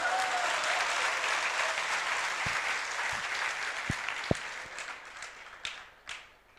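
A crowd at a spiritual discourse gives a round of applause, dense at first and then thinning out into a few scattered, louder individual claps as it trails off.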